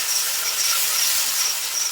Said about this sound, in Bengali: দিয়ে এবার ভেজে নেবো আলুটা